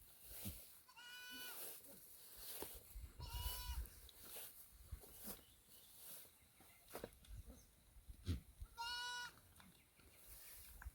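Goat kids and mother goats bleat on a farm in Kamuli District, several wavering bleats near and far over a murmur of farmyard noise and distant voices.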